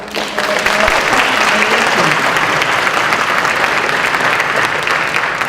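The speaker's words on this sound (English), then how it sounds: "Can we get a round of applause for these?" A crowd claps steadily at a middle school orchestra festival, a dense wash of applause that holds at full strength throughout.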